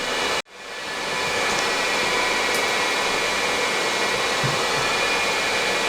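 A CPU mining rig powering on, its fans spinning up after a brief click into a loud, steady whoosh of airflow that holds constant for several seconds with no talking.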